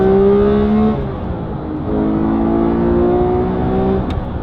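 A Porsche 991.2 GT3 Touring or 997 GT3 RS 4.0 flat-six revving hard toward 9,000 rpm, a loud rising wail that drops back briefly, then climbs again in a long sustained howl heard from inside the car.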